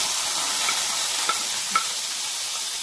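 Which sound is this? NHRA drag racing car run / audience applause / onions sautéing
onions sautéing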